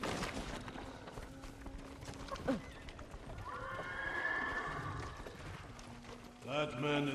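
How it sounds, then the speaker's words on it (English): Horses neigh and gallop in the video game Ghost of Tsushima, with drumming hoofbeats and a couple of loud whinnies, while a voice speaks over the scene. "Follow those horses."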